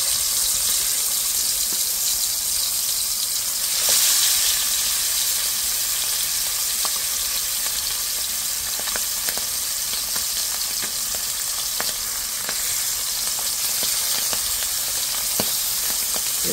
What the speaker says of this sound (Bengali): এভাবে আমি উল্টিয়ে পাল্টিয়ে সব মাছগুলো ভেজে নেব।